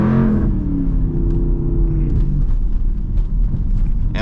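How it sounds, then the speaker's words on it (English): A straight-piped SRT Jeep exhaust drops from a rising rev into a rough, crackling idle burble with scattered pops, loud and close throughout. "every time I downshift it pop, bro. I love that popping sound."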